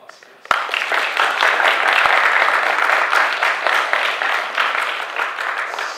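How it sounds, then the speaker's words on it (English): Audience applause welcomes two CPAs at a finance workshop, bursting in suddenly after a quiet moment and holding as a dense, steady wash of many hands clapping for several seconds. "just give them a warm welcome applause, please"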